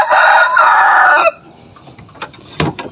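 A shamo or fighter rooster crows loudly and close in a breeding pen, one long strained crow lasting over a second, followed by quieter scratchy barnyard sounds.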